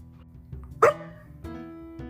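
A single short, sharp dog bark from a small co-host dog sits near the middle, fairly close and clear, over a low steady background hum with faint thuds around it.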